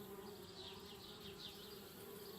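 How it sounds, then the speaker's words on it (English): Bees buzzing at a beehive in a tree house in the video game Anna's Quest, a soft continuous insect drone with wavering pitch, faint and steady throughout. "bees, trying to move into our tree house"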